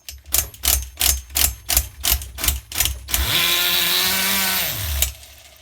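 A nitro HPI RS4 RC F150 pickup engine running too rich: a string of rough, sputtering blips at first, then a sustained buzzing drone that holds for a couple of seconds before dying off.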